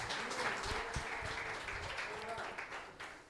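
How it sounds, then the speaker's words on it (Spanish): A church congregation applauds during a New Year service, with steady, fairly distant clapping from many people under a speaking voice. "Un aplauso al Señor mientras toma asiento"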